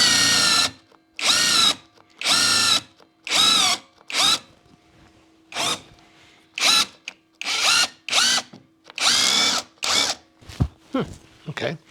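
Repeated short bursts from a Kreg Ionic Drive impact driver drilling pocket holes, about a dozen loud whirring pulses in an uneven stop-start rhythm, close and alone.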